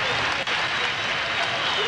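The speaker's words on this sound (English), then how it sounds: "this partisan Nebraska crowd, cheering on every pitch" A partisan Nebraska crowd cheers loudly and steadily at a College World Series baseball game against Clemson, a broad continuous roar from the stands.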